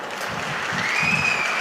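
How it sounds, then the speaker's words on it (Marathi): A rally crowd in Solapur claps in a brief, even wash of applause, with a thin whistle-like tone rising above it partway through. "एकदा जोरदार पुन्हा टाळ्या वाजवायच्या एकदा सगळ्यांनी."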